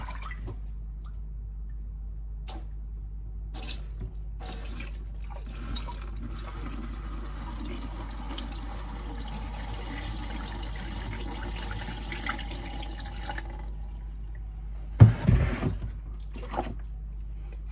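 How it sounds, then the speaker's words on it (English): Watery paper pulp is poured through a strainer, giving a quiet trickling and dripping over a low hum, with a brief louder splash near the end. "I'm gonna take a strainer and strain my pulp through it so that I'm not wasting any paper"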